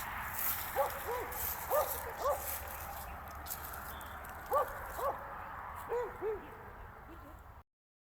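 Several dogs bark from a distance at night near a cemetery across a road, sounding as scattered short clusters of barks over a steady hum of background noise, with faint murmuring voices.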